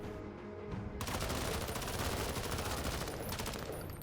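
Sustained gunfire from the Menace video game, a dense rattle of rapid automatic shots that starts after a brief quieter moment and continues loudly and steadily to the end.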